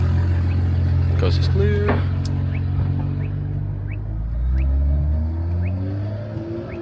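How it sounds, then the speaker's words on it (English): Loud BMW M car engine idling and rumbling deep and steady throughout, with a brief rev near the start, while a person talks over it outdoors at a car meet. "The car sounds pretty nasty right now too."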